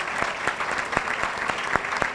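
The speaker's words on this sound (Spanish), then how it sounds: "Un aplauso para ella." Steady applause from an audience at a school-and-parents conference talk, dense clapping throughout with a few sharper claps standing out, fairly close and even in loudness.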